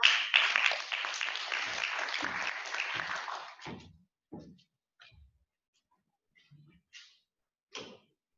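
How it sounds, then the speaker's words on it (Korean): Audience applause at a college student academic presentation, a few seconds of dense clapping that thins out into scattered isolated claps and then silence. "모두 많은 박수를 부탁드리겠습니다."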